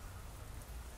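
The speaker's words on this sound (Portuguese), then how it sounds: "E nesse momento está chovendo aqui na região da aclimação." Steady rain falling in the Aclimação area in the late afternoon, a continuous dense hiss of drops on surfaces with a low rumble underneath, even and unbroken throughout.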